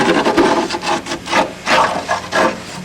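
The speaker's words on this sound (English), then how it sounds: "I'm just going to do a light bevel." Light bevel being cut on a nose gear part, a series of short rhythmic rasping strokes, close and fairly loud, about a dozen passes.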